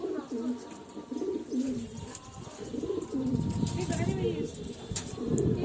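Pigeons at a rooftop loft cooing repeatedly at close range, low rolling coos with occasional chirps, while a person talks over them and background noise rises toward the end.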